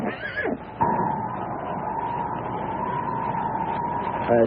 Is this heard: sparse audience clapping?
no